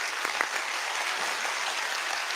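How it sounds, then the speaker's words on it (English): A debate audience bursts into sustained applause after a presentation, a dense, even wash of clapping from a crowded hall with no talking over it. "We can applaud Mr. Ham's presentation."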